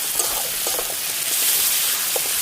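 Tomato, ginger and garlic frying in a pan, a steady soft sizzle with faint crackles and occasional stirring scrapes, close and continuous with no talk.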